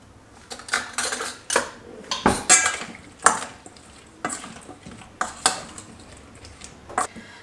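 Beef lasagne filling is scooped and spread into a pie dish, heard as a series of close, irregular scrapes, clinks and wet thuds of a spoon against the dish.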